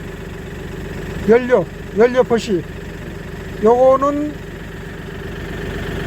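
A Daedong NX600C tractor engine idles in a steady low rumble throughout, while someone speaks in short bursts over it.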